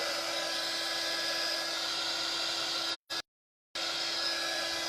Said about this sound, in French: je viens récupérer, hop là, mon pistolet chauffant